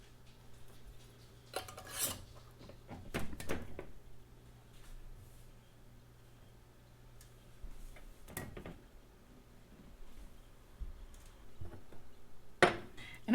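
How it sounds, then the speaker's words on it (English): Metal canning lids and screw rings set onto hot jars of broth in a home kitchen, heard as a few scattered clinks and scraping clicks of metal on glass, with quiet stretches between them. "Put our flats on. And then our rings to fingertip tight."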